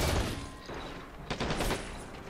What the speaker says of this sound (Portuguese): Múltiplos disparos aí, ó.